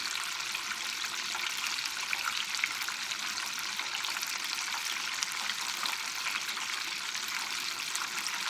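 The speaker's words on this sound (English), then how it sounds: "It's frying." Chicken fries in hot oil in a small stock pot, a steady, even crackling sizzle throughout with no talking.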